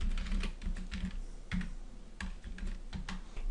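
A computer keyboard is being typed on to enter a slide title in PowerPoint: a steady run of close, light key clicks with small pauses, alone and without speech.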